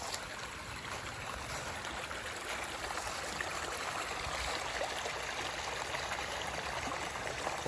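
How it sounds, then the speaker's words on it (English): Steady trickling and babbling of running water from a nearby stream, continuous and even throughout, with no voices. "nice freshwater stream."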